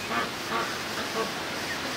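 A domestic duck calls while splashing about in water, several short quacking honks over a busy wet background, close and fairly loud.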